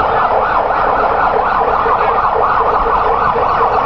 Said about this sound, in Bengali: আমরা দেখতে পাচ্ছি আইসিইউ অ্যাম্বুলেন্সে করে পাঠানো হচ্ছে